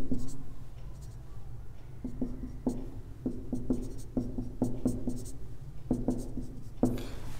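A pen scratches out a graph of a modulus function on paper, giving a rhythmic series of short strokes at close range, with no talk.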